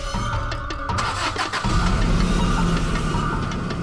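A car engine turning over and catching: a brief cranking stutter, then a sudden full, steady mid-pitched engine rumble that holds loud and close.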